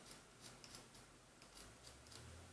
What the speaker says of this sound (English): Big enough so I can get my scissors in there.